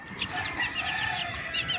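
Chickens cluck and chatter continuously at close range, with a steady farmyard murmur of birds and no talking.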